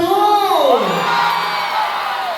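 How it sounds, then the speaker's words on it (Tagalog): An audience at a contest cheers for contestant number 1, a loud burst of overlapping whoops and shouts that rises sharply and then settles into sustained crowd noise. "Palakpakan kasama sigawan for contestant number 1."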